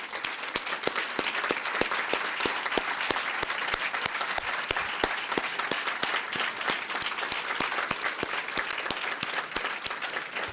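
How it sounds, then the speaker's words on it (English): Audience at the 2016 Wall of Distinction ceremony applauding the inductees, dense steady clapping from a large crowd with sharp individual claps standing out, sustained for about ten seconds. "please stand up and give these wonderful people a round of applause"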